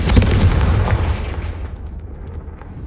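Confringo fire spell blast in the video game Hogwarts Legacy, a loud booming explosion with a crackling burst at the start that rumbles and decays over a few seconds.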